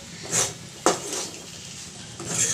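Boiled potatoes are stirred in a pan with a utensil, making a few brief clinks and scraping knocks spaced apart against a quiet background.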